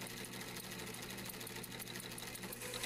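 A sewing machine runs continuously while stitching shalwar fabric, a rapid even mechanical whir heard quietly and alone.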